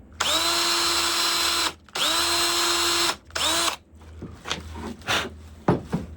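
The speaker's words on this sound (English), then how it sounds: "We got us a little hole drilled right in the center, and it's 1/4 inch ready for a dowel pin." Power drill boring a 1/4-inch hole in seasoned wood for a walking stick: three loud, close whining bursts, the last one short, followed by scraping and clatter of handling.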